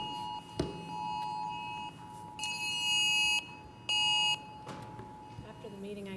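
A phone alarm sounds during a committee meeting room session, sharp electronic beeping in two bursts of about a second each over a steady tone and low room noise, with voices murmuring nearby.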